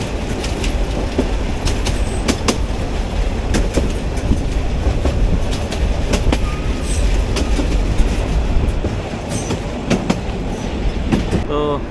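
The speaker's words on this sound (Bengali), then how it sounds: "তো ট্রেন চলে আসলো পাটগ্রাম রেলওয়ে স্টেশনে।" A local train rolls into Patgram railway station, loud continuous rumble with rhythmic clickety-clack of wheels, metallic clanks and brief squeals close by.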